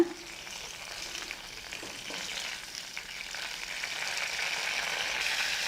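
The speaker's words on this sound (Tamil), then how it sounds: "பட்டர் உருக்கும்போது அடுப்பை கொஞ்சம் கம்மி பண்ணி வச்சுக்கோங்க சில சமயம் தெரிக்கும் மேலே பட்டர் உருகிடுச்சு" Butter melting and sizzling in a pan on a lowered stove flame while cooking pepper butter chicken, a steady close frying hiss with fine crackle that grows slightly louder over time, with no talk.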